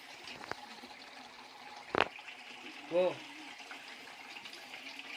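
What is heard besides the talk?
water flowing from the temple bull's mouth spout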